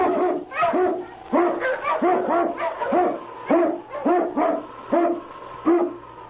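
An Eskimo sled dog, a lead dog in a radio drama effect, barks in a rapid series of loud, close, repeated woofs, with a couple of quick bursts and brief pauses in between.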